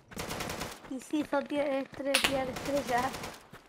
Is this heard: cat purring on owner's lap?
no